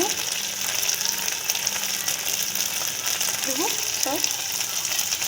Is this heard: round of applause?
no